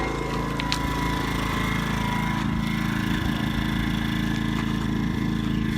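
A Pulsar 2000W inverter generator runs steadily nearby, a continuous buzzing engine drone like a small moped with a constant level and no pauses.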